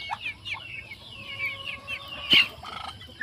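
Backyard chickens at morning feeding time, fed rice hulls and feeds, cluck and chirp excitedly close by, with one sharp loud squawk midway over a low rumbling background.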